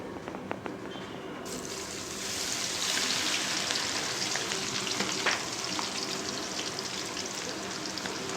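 Okra pieces for lady's finger 65 frying in hot oil, a steady broadband sizzle that swells louder after the first second and holds as a continuous crackling hiss, close and alone.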